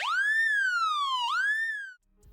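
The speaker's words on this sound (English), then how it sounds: "For each scene, I made the ambulance pass near a player with an audio listener." In a Unity scene an ambulance siren passes close to a listener, its wailing tone sliding down in pitch as it goes by, then rising again before it cuts off abruptly.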